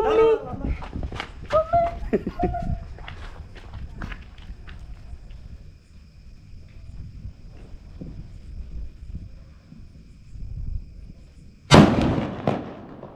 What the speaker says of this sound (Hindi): देखिए अगरबत्ती जलाते हैं बम फोड़ने के लिए